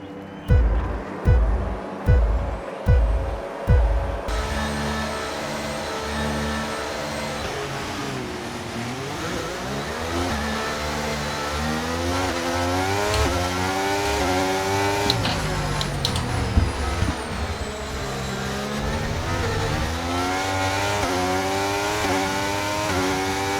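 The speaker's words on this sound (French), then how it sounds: "sa puissance moteur, hein, ça c'est Ferrari devant" A Ferrari Formula 1 car engine in the game F1 23 revs sharply a few times, then holds a loud, high, whining drone that climbs and falls through gear changes.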